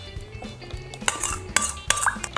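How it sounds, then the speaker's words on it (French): Wet seitan mixture is poured into the dry mix in a bowl and stirred, producing a few sharp clinks of utensil against bowl and soft scraping, close and fairly loud, in short bursts. "on verse notre mélange humide dans le mélange sec"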